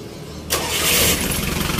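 A Mitsubishi L300 diesel engine, its injection pump freshly calibrated, starts after a brief low crank and settles into a loud, close idle with a rough throb.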